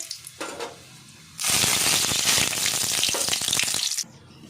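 Onions with whole spices such as cinnamon stick fry in hot oil in a chicken masala, a loud continuous sizzle that bursts in after a quiet start and cuts off near the end.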